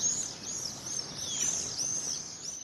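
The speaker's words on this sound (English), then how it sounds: "For many, the sound of swifts marks the start of summer." Swifts give high, thin screaming calls in repeated short bursts over a faint background hiss, sounding somewhat distant.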